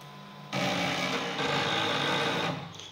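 A Tronxy X5SA 3D printer running its auto-leveling routine gives a steady, close mechanical whir of stepper motors that starts abruptly, shifts pitch partway and tapers near the end.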